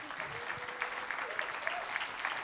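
A stage audience applauds Clara Morgane at her 2015 calendar launch in Montreux: a steady, moderately quiet wash of many hands clapping, with faint tonal sounds in the background.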